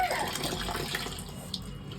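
Water runs and splashes briefly nearby, a soft gushing sound of bathing water poured over the body in a bathroom, with faint background noise.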